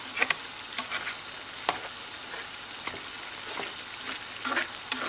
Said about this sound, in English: We're going to let this cook for about another 5 minutes. Like this, stirring it occasionally.